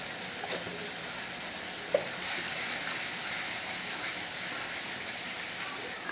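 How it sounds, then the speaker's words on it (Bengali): Spice masala with turmeric, chili and tomato frying in oil in a pan for a pabda fish curry, giving a steady close sizzle and hiss with a few faint stirring clicks and no talk. "এবার তেল ছাড়া অবধি আমাকে এটা ভালো করে মশলাটাকে কষাতে হবে"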